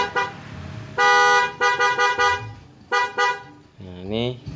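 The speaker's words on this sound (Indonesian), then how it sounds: "ini berulang-ulang, tetap nyaring dan tetap elegan, enggak seperti klakson bawaan cempreng" Several loud blasts from an aftermarket horn fitted to a Honda PCX scooter sound in quick succession, some short and some held, close and bright, with a voice speaking briefly at the end.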